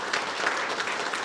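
A conference audience of electrical union members gives a round of applause for Illinois House Speaker Emmanuel Chris Welch, a brief burst of dense, moderately loud clapping that carries evenly through the short moment.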